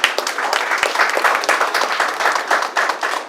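Audience applause at a gathering in a hotel, a dense burst of many hands clapping together, loud and close, holding steady without a break from start to finish.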